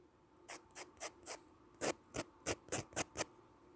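Sandpaper rubs a small miniature part in a series of quick, close, crisp scratchy strokes, about a dozen in an uneven rhythm against a quiet background.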